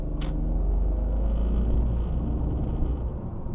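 BMW E46 sedan with fresh belts, a new cooling fan and worn engine mounts, cruising with a steady low engine and road rumble, close and continuous, no talking.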